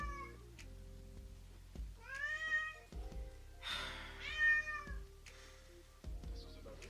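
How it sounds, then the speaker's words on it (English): A pet cat meows several times close by, its drawn-out, rising and falling cries repeating over a steady low background hum. "Sorry, that's our cat."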